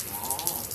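Rain falls outdoors in Mesa, Arizona, a soft, steady patter with light drips and no talking.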